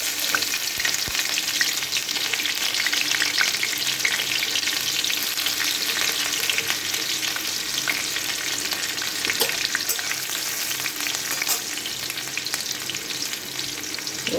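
Chopped onion, chili, crushed garlic, ginger and tomato sizzle and fry in a pan for an egg tarka, a steady, loud, close crackling hiss lasting throughout with occasional stirring, no voices.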